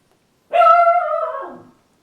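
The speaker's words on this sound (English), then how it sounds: "that's my dog" A dog gives a single drawn-out whining yelp, close and fairly loud, sliding downward in pitch and fading after about a second, with quiet around it.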